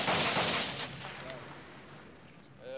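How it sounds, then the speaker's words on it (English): Gunfire in wartime Beirut: a heavy burst of shots opens loudly, then echoes and fades, with scattered faint reports and distant noise afterward. "As gunfire echoed all around"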